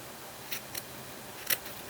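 Sharp scissors snip while trimming fabric for a junk journal, giving three brief, crisp cuts spaced apart over a quiet background.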